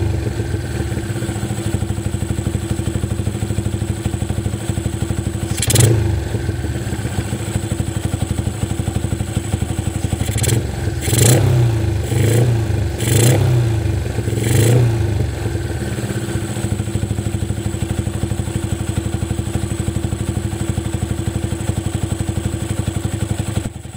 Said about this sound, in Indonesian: motor ini masih bisa digas